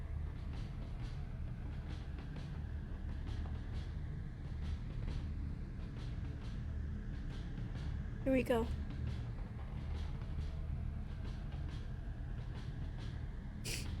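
A train rides along in the video game What Comes After, giving a low, steady rumble with faint rhythmic clicks and a short squeal partway through. A voice speaks briefly over it.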